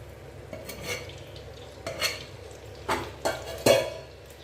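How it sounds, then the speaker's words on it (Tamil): A clay cooking pot is set down and cooking oil poured in for a Tamil-style kulambu, heard as a few close clunks and scrapes of cookware with faint stirring sounds in between. "ஒரு மண்சட்டி வச்சுருக்கேங்க அதில் நம்ம எண்ணெய் விட்டுக்கலாம்"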